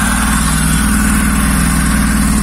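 Honda Jazz engine idling on a homemade Speeduino ECU, running slightly lean, a loud, close, steady low rumble with even pulsing throughout and no speech.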